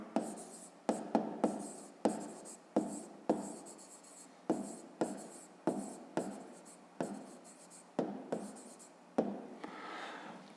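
A pen scratches out a grade 5 math solution by hand on paper, making quick repeated close strokes in short bursts with small gaps between, quiet and with no voices.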